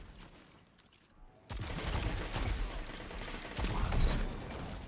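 Loud, sustained automatic gunfire from an auto rifle in a first-person shooter, a dense continuous burst starting after a short quiet moment and pressing on with mechanical clatter.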